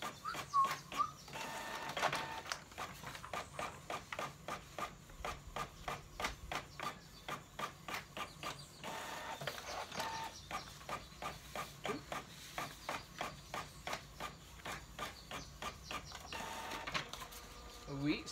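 A home printer running a print job, a steady series of rhythmic mechanical passes with whirring and clicks repeating over many seconds, close by, with someone talking at times over it.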